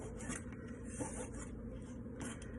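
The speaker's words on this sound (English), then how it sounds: "and then peeling the cucumber" A cucumber being peeled gives soft, faint rasping strokes, a few scrapes spaced apart over a quiet background.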